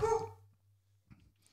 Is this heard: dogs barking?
yes